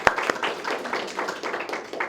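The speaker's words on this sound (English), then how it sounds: "You deserve a big round of applause." Audience applause at a JWC 2024 talk event, a steady wash of many hands clapping at moderate loudness for about two seconds, with one sharper clap near the start.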